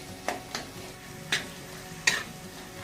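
Spices frying in a pan for a Maharashtrian chickpea curry give a faint background sizzle, broken by several sharp stirring scrapes and clinks of a utensil against the pan.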